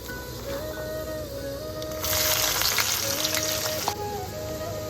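Onions frying in a pan, with a continuous sizzle that swells loudly for a couple of seconds midway and then settles back to a steady crackle.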